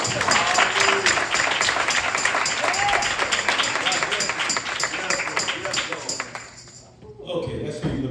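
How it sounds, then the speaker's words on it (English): Church congregation clapping hands together during a sermon, dense steady applause from many people close by, with voices calling out over it, fading toward the end. "Come on, clap your hands to the Lord right quick."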